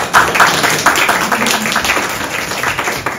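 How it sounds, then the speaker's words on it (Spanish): Applause from a youth retreat audience at a Bible study talk, a steady patter of many hands clapping, fairly loud and close, lasting the whole moment. "Para el aplauso."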